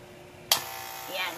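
A small electric baby hair clipper with a built-in vacuum switches on with a click and runs with a steady whirring, suction-like hum, close and fairly loud.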